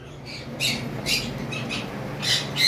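A cockatiel pair kept for sale in a bird shop squawks in several sharp, shrill bursts spaced through the moment, fairly close, over a low background hum.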